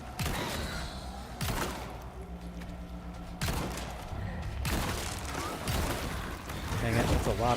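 Bursts of gunfire from a Resident Evil 4 gameplay session, several loud rapid volleys in separate clusters with short pauses between them, filling the whole stretch.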